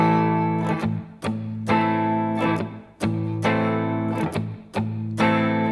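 Distorted electric guitar playing a repeating pattern of sustained double-stop chords, each struck with a sharp pick attack, played alone.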